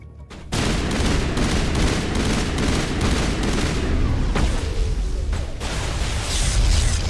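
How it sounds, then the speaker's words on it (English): Grenade blast and sustained gunfire in the Mass Effect video game, a loud dense barrage of shots and booms that starts abruptly and continues without pause. "Nice grenade."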